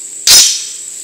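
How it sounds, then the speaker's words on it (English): A single suppressed shot from a Ruger Mini-14 tactical rifle in 300 AAC Blackout firing 240 grain subsonic ammunition, a sharp muted crack that decays quickly against a steady background hum. "So I figured I'd try 5 rounds of the Steelwood 240 grain"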